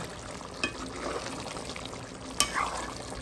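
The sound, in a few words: lamb massalé simmering in a cooking pot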